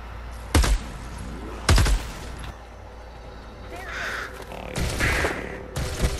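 Crows caw in a Fortnite match, the calls coming as a few separate bursts against the game's background noise.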